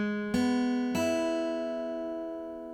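Two strums of a guitar chord, fretted with one finger and with the next two strings left open, ring close and clear, the second strum sustaining and slowly fading.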